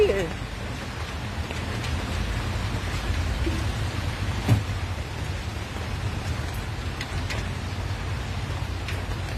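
Steady rain hisses and patters throughout, with a low rumble underneath and one brief knock midway; no voices stand out.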